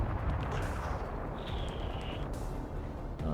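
Weapon blasts and plasma fire from spaceships battling in Nebulous: Fleet Command, a dense continuous rumble of impacts with a whining tone partway through, no talking.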